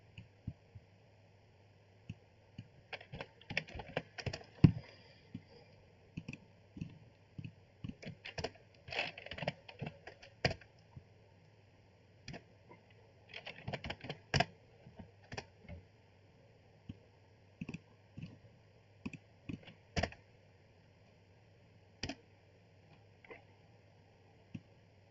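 Computer keyboard keys and mouse clicks during copy-and-paste of router commands, heard as sparse, light tapping in short bursts and single clicks over a low steady hum, fairly close and quiet.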